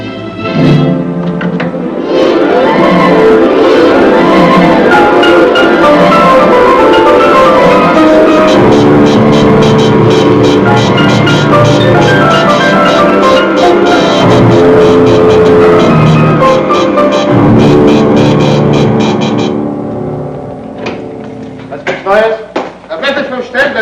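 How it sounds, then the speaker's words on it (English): A loud, steady mechanical drone of generators running continuously, with a rough motor rumble that fades out near the end into scattered noises. "Come on, start the generators."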